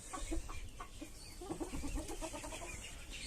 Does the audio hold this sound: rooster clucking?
yes